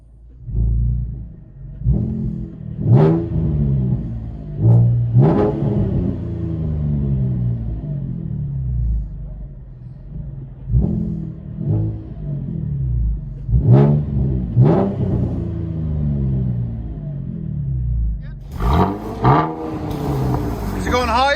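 Chevy Camaro 3.6L V6 exhaust heard from inside the cabin, a muffled idle rumble broken by several rising and falling revs, with people talking over it.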